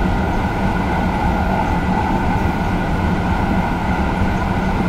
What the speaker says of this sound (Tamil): ட்ரெயின் வந்து கொஞ்சம் ஸ்பீட் பிக்கப் ஆகுது.